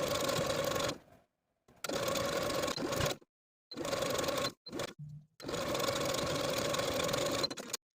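A sewing machine stitches a neckband seam allowance to a jumpsuit bodice in several bursts of rapid whirring, broken by short silent pauses, and closes with one long run.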